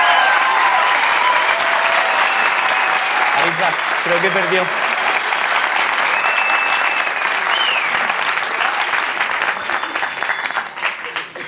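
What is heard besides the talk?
audience applause at a live comedy show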